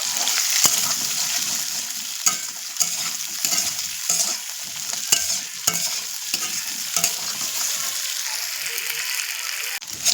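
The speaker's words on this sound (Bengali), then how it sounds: "আলুগুলোকে একটু লাল লাল করে ভেজে নেব।" Potatoes frying in a pan, a steady crackling sizzle with repeated sharp scraping stirs and clicks of a utensil, close and continuous.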